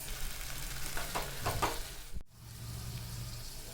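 Broad beans and potato pieces dropped into a hot pan, a close crackling sizzle with stirring clatter, a brief sharp knock, then steady frying hiss.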